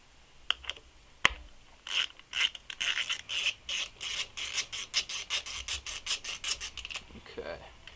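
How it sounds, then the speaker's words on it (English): A wrench ratchets in quick repeated clicks while loosening small 8mm bolts on a GY6 scooter engine stator, starting with a few isolated taps before settling into a steady close-up rhythm of rasping clicks. "Just be real gentle when breaking these bolts free."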